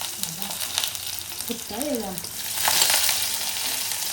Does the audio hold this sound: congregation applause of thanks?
no